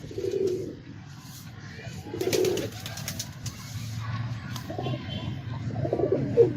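Pigeon cooing in soft repeated bursts, the low throaty coos rising and falling close by over a faint background of other sounds, with no talking.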